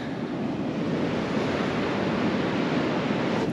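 Steady, broadband rush of ocean surf breaking on a beach, loud and continuous with wind buffeting the microphone, no voices.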